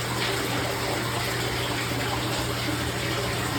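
Fresh cold water pours steadily into a fish tank in a fish room, a constant loud rushing gush with a low pump hum underneath and no voices.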